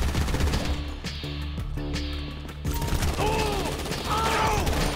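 Rapid gunfire from a shotgun and other weapons during a heist shootout in the video game Grand Theft Auto V, loud bursts filling the clip with a sustained din of shots and game action.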